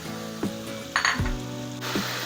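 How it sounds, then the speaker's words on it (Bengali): Ground cumin, coriander leaves, green chilli, garlic and onion paste sizzling in hot oil for a fish curry, a steady close frying hiss with a few stirring clinks and scrapes. "এবার দিচ্ছি তেলের মধ্যে সাদা জিরে বাটা দিচ্ছি ধনে পাতা কাঁচা লঙ্কা রসুন আর পেঁয়াজের পেস্টটা"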